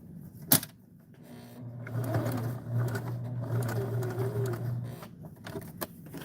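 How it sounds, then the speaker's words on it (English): A home sewing machine stitches a short back stitch and then sews forward, a steady close mechanical whir that starts after a sharp click and runs evenly for several seconds with small rhythmic variations. "Back stitch once and go forward again so I can turn."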